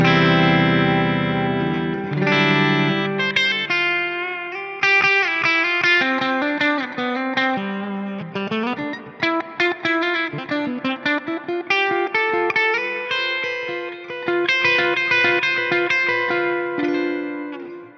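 Electric guitar played through a 4x12 V16B cabinet impulse response, loud and continuous with distorted, effected tone, chords and single-note lines ringing with some reverb, no voices.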